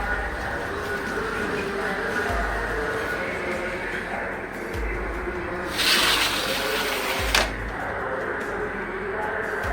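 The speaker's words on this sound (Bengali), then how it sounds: "এখানে এই যে গাছগুলিতে আমি পানি দিয়ে দিচ্ছি" Water is poured onto potted plants whose soil has dried out, a steady broadband splash running under continuous nearby talk, with a brief louder gush around the middle.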